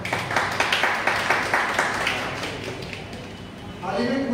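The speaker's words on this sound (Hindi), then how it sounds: "बड़ा जोरदार तालियां" Clapping from a workshop audience, rhythmic close claps at first that thin out and fade, with a voice beginning to speak near the end.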